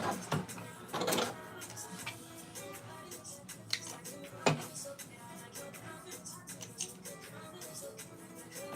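A sewing machine stitches trouser fabric, with no walking foot fitted, in a close, busy run of rapid mechanical clatter and clicks that rises and falls, a few louder knocks standing out.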